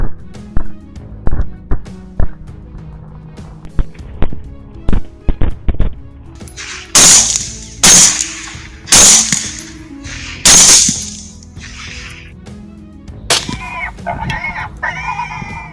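Gunshots fired at wild hogs at night on Texas farmland: four loud, sharp cracks about a second apart, preceded by a string of smaller, fainter snaps and clicks.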